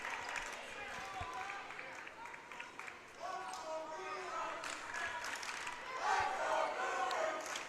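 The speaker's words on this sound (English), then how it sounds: "Home crowd getting into it for Fargo South." A home crowd at a North Dakota Class A high school volleyball match between Fargo Davies and Fargo South cheers and murmurs steadily in a gym, swelling louder near the end, with voices mixed throughout.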